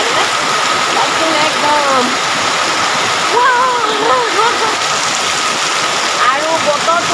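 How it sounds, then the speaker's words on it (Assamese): Heavy rain pours down in a dense, continuous hiss, steady and close, while a voice talks over it. "একদম ধাৰাসাৰ বৰষুণ দিছে"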